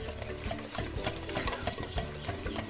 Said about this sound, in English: Now that we grated our pecorino romano, grab this and whisk it.